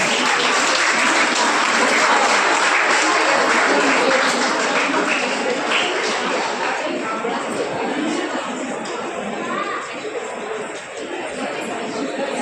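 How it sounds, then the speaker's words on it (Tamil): Students and parents at a Chennai school Krishna Jayanti competition applaud a school drama with loud, dense clapping that runs on steadily, mixed with background chatter and tapering slightly near the end. "இந்த நாடகத்தை சிறந்த கைத்தட்டல் கொடுங்க அவங்களுக்கு."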